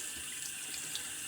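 A bathroom tap runs steadily for rinsing during a wet shave, a continuous close hiss of water into the sink with no talk.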